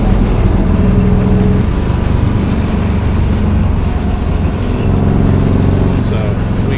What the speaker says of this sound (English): Going about 60 miles an hour. 4th gear.